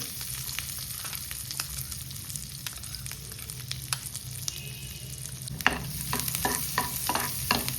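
A piece of butter and some garlic fry in a pan with a steady close sizzle, while a spoon scrapes and taps against the metal. The stirring grows busier toward the end, and there is no talking.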